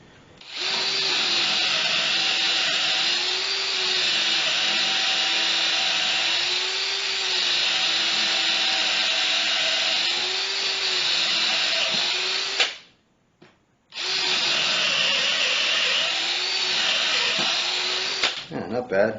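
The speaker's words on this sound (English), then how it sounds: "the first thing I'll try is drilling into this 4x4 with this half-inch drill bit" A Ryobi P214 hammer drill in drill mode bores a half-inch bit into a wooden 4x4, a loud sustained whine with wavering load for about twelve seconds, a brief pause, then a second burst of drilling.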